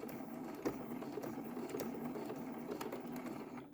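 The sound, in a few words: sewing machine stitching and reversing on a rainbow quilt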